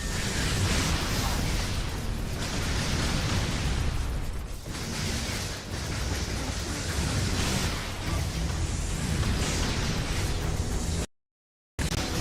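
Grenade and rocket explosions in the inFamous video game on hard mode: dense, loud, continuous booming blasts overlapping one another, then a brief dropout to silence near the end.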